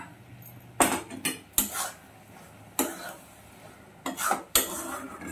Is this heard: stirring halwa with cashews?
yes